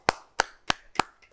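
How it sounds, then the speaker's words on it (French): Four sharp, evenly spaced hand claps sound close and dry during a French Father's Day radio broadcast, too few for full applause. "C'est de la part de Sabine Sopé, on l'applaudit."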